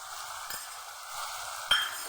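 Ground turmeric, cumin and coriander fry in hot oil in a pan for a hilsa and ash gourd curry, a soft, steady sizzle broken by two light clinks of a utensil.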